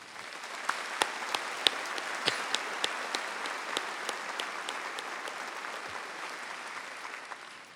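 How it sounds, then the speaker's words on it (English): Graduation ceremony audience at Auburn University applauds a group, a sustained wave of clapping from a large crowd with sharp individual claps standing out near the front, slowly tapering toward the end. "Can we please have a round of applause for this special group?"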